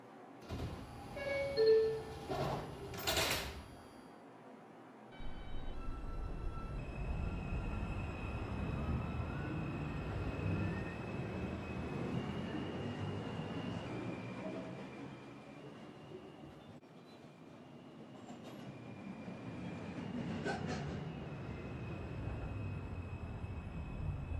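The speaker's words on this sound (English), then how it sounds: "This is a Manhattan-bound 5 train. The next stop is Newkirk Avenue." An updated R142 New York subway car on the 5 train, running without HVAC and fitted with new door motors, rumbles steadily along the track after a brief chime-like sound at the start, with rail noise filling the whole stretch.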